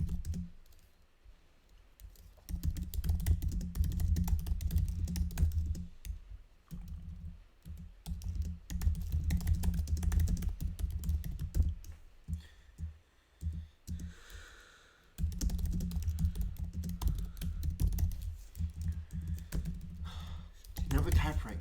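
Fast clattering keystrokes on a computer keyboard run in long, close bursts with brief pauses, joined by a sigh and heavy breathing.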